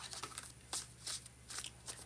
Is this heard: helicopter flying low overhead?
no